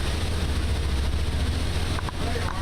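A 2009 Leopard 47 power catamaran cruises at speed, with a dense roar of wind, rushing water and engine drone around the deck, loud and continuous.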